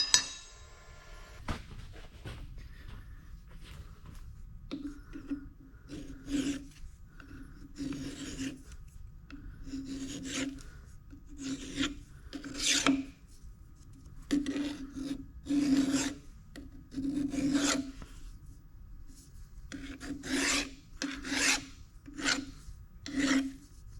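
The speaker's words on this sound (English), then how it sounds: "So I'll deburr that" A file deburrs a machined metal spindle part for a wood lathe in a steady run of rhythmic rasping strokes, close and clear, roughly twenty passes with brief pauses between them.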